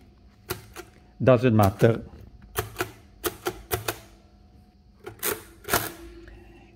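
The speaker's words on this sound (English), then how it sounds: "You can also press at the same time many keys, you see." Keys clack on a 1930 Torpedo Addiermaschine mechanical calculator, a series of sharp, separate mechanical clicks and clunks, some in quick pairs, with someone briefly talking between them.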